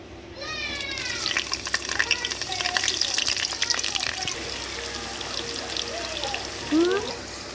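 Ginger, garlic and Scotch bonnet sizzle in oil in a steady, hissing fry, with intermittent meow-like vocal sounds rising over it.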